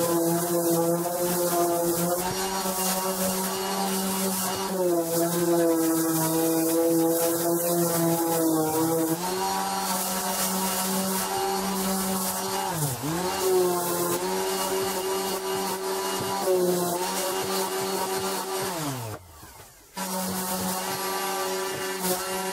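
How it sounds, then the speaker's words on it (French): A power sander works on wood for a decorative gate, working through 80 to 240 grit, giving a steady close droning whine with a few brief dips in pitch and a short cut-out near the end. "Et voilà le temps du ponçage."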